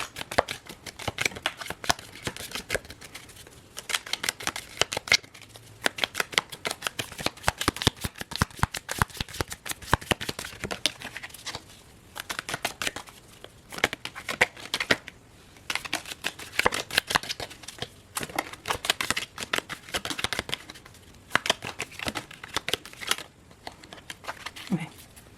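Tarot fortune cards are shuffled steadily, close and crisp, in repeated riffling bursts with brief pauses between them and no talking.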